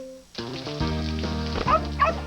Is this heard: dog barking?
yes